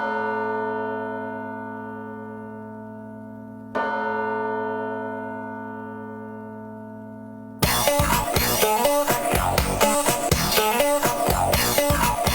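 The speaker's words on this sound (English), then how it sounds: "Oh, very church bell." Church bell tones within a dance track: two long, ringing bell strikes decaying slowly, the second landing midway, then the full song bursts in loudly with drums and dense instrumentation.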